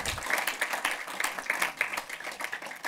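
Audience applause in the Filmmuseum cinema welcoming director Max Linz onto the stage, steady dense clapping from a full room that keeps going throughout.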